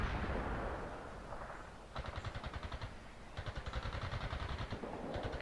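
Rapid bursts of machine gun fire in a World in Conflict battle, distant rumbling explosions giving way to sustained rattling volleys that repeat in rhythmic pulses, fairly quiet overall.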